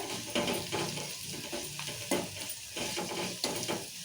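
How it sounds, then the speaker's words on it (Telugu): Turmeric added to a hot oil tempering for sesame pachi pulusu, giving a moderate sizzle with scattered stirring clicks, steady and close. "ఇప్పుడు తాలింపులో పసుపు వేసుకుందాము"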